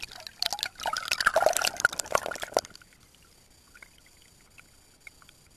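Creek water picked up underwater by a RePlay XD 1080 Mini camera microphone: a rushing, bubbling wash for about two and a half seconds that drops to faint trickles and drips.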